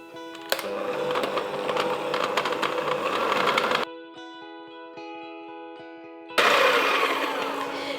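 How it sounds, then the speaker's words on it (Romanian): A hand-held electric mixer whips butter and powdered sugar into a fluffy cream for butter cranberry cookies, giving a loud whirring drone with a rattle of beaters that drops to a softer hum and then surges back to full speed. "Adăugăm zahărul pudră și continuăm mixarea până obținem o cremă pufoasă."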